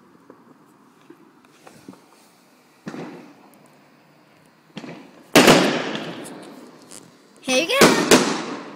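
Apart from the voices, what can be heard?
fireworks going off in the distance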